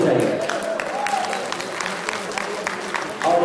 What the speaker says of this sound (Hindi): मेरे भैया के लिए जोरदार ताली होनी चाहिए